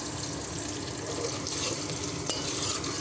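Onions fry in a pan for khichdi, a dense continuous sizzle close up with one faint knock, and no voices.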